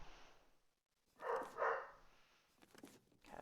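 A pet dog gives two quick, sharp barks close by in a quiet room, followed a moment later by a softer yip or two.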